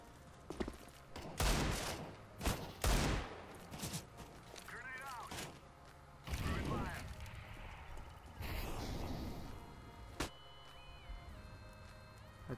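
Gunfire in the shooter game CS:GO, several loud bursts and single shots close by, mixed with in-game effects and a speaking voice.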